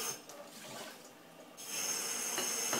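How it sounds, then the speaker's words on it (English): Cold tap water rinses Brandywine tomato seeds in a strainer with a close, hissing splash. It runs lighter at first, eases off, then surges into a fuller, steady stream, and no one speaks. "Just use some cold water and start rinsing the seeds."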